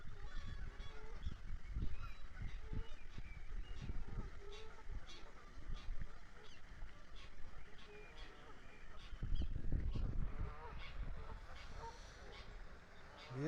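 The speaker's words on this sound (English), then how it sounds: "Yeah, you can hear the ducks there, can't you?" Ducks in a park give repeated honking quacks, some near and some farther off, with a louder burst toward the end; people talk quietly in the background.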